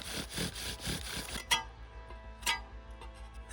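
A blade scrapes the end of a wooden stick to a point in a quick run of short rasping strokes, then stops, followed by two sharp knocks, close and fairly quiet.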